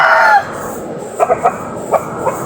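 A backyard rooster kept in the Philippines crows loudly at the very start, its call breaking off within half a second, followed by a few short, separate clucks over soft background noise, with no one speaking.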